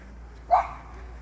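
A single short bark from a dog outdoors during a morning walk, clear and moderately close against quiet background.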